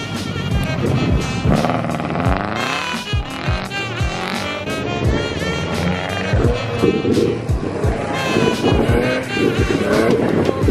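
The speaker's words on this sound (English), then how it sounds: "the white Ford Focus RS is gonna spin around me" A white Ford Focus RS spins and drifts in circles on snow, its engine droning and rising with repeated revs and wheelspin, loud and continuous with busy background noise and no clear talk.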